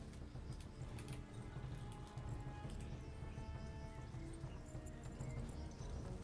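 A horse gallops in the medieval video game Kingdom Come: Deliverance, with steady clip-clop hoofbeats running continuously over a dense game soundscape, with no talk.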